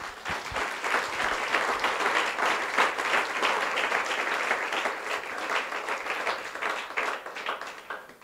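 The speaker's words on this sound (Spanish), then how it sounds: "Dale un aplauso fuerte al Señor." A church congregation claps strongly during a pastor's sermon, with brisk, full applause of many hands sustained and fairly close, slowly tapering toward the end.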